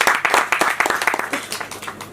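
Hearty applause from an audience at an event for a singer's devotional music debut, with many hands clapping loudly and steadily in a dense burst that gradually thins toward the end.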